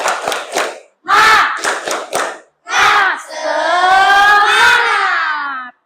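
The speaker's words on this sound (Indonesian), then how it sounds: "Oke, 1, 2, 3. Tepuk semangat." A group of people, likely children, doing a patterned spirit clap: several quick bursts of claps, a short pause, then a sustained loud group shout.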